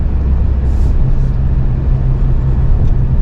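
A 2024 Toyota Camry TRD on all-season Michelin tires drives down the road, with a steady, loud low rumble of engine and tire noise filling the cabin throughout and no talking.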